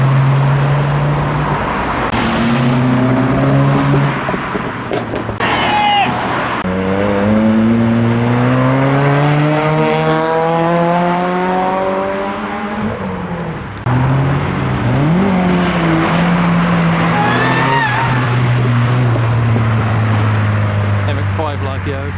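Tuner cars, including a Corsa and an MX-5, roll into a nighttime car meet in November, with engines revving and rising and falling as they pass close by, one after another, over crowd chatter.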